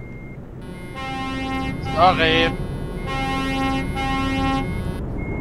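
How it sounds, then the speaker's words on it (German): Truck air horns honk repeatedly in Euro Truck Simulator 2 during a large multiplayer convoy, with sustained tonal blasts that start and stop across the stretch and overlap with a voice speaking briefly. "Alter, hört auf zu hupen!"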